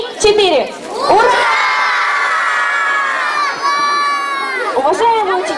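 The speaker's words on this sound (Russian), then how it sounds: "Давайте поздравим всех педагогов громким «Ура!»" A crowd of children at a school first-of-September assembly shouts a long, loud cheer of hooray in celebration of the teachers, sustained for several seconds with excited voices rising and falling.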